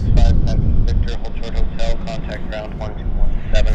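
A WestJet airliner departs Vancouver YVR airport and banks into a turn, its engine roar a steady broad rumble, while someone talks excitedly over it.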